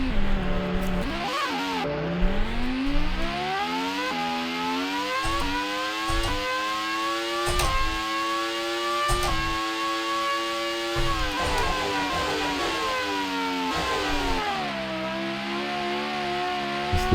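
A Formula 1 car in the Grand Prix 2 racing game spins out after touching a curb, its engine note whining and sweeping up and down through revs and gear changes for about seventeen seconds, loud and steady with no talk.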